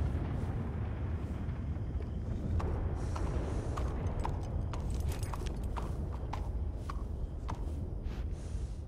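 Irregular horse hoofbeats clopping in Red Dead Redemption 2 against a dense, rumbling background, sharp clacks scattered through, no talking.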